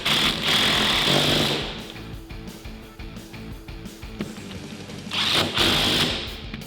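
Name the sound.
tightening bolts with a 14mm socket wrench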